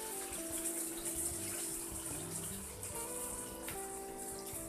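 Water pours steadily into a cooking pan while tuna is prepared with garlic and butter, a continuous gushing flow lasting several seconds alongside faint kitchen background noise.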